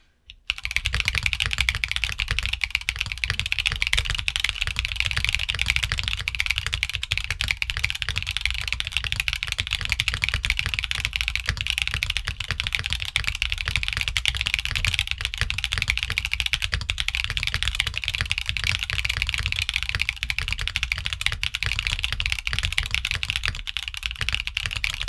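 Rapid typing on a mechanical keyboard with Gateron Luciola switches clicks away continuously for the whole stretch, a dense, even clatter of keystrokes close to the listener.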